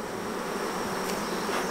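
Honey bees buzz continuously around homemade hives, a dense, steady swarm drone that stays close and loud throughout with no voices.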